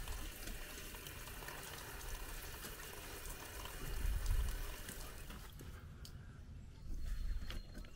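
Water leaks from a cracked water filter housing in a Tiffin Allegro RV, giving a steady, close hiss and spray of running water that swells a little louder twice, with no talk.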